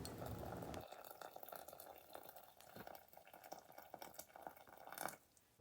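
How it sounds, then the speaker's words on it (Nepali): Hot water poured into a pot of cooked black lentils (urad dal soup), a steady broadband watery splash and gurgle lasting several seconds, with a brief louder gush near the end. "यसमा चाहिने मात्रामा तातो पानी हाल्ने।"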